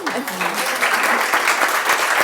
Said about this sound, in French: Je propose qu'on donne une bonne main d'applaudissement à Joanne.